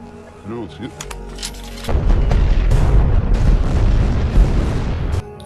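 A deep, heavy rumbling landmine blast erupts and rolls on for several seconds, loud and sustained, following a quieter stretch with faint talking.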